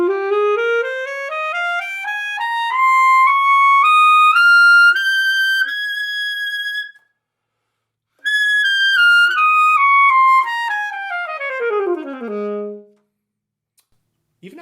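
An alto saxophone climbs in a stepwise scale to a high held altissimo F, pauses, then descends back down the same steps, clear and close with no talking.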